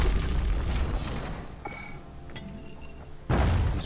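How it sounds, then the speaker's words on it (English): A hand grenade goes off in the video game Bastion, a dense rumbling boom that fades to a lower roar, then a second loud burst near the end. "Hand grenade. Sweet."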